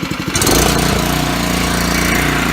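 A motorized walk-behind spreader's small engine catches and runs, a loud, close, steady buzzing drone with a chugging pulse that holds after a brief sputtering start.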